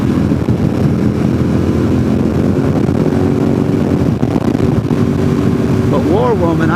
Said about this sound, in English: Today I'm on a Ducati 848.